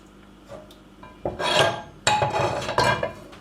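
A frying pan and pot are handled in a home kitchen while buckwheat groats cook: sharp metallic clanks and scrapes come in three loud bursts after a quieter start, close up and with no talking.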